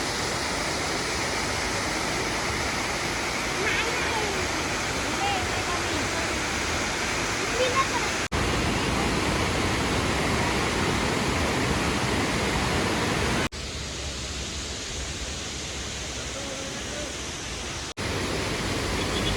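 Steady, loud rush of a waterfall fills the whole stretch, a dense broadband roar that dips briefly in level before returning.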